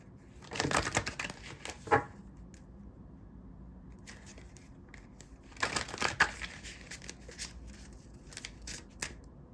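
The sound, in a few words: bunch of oracle cards dropped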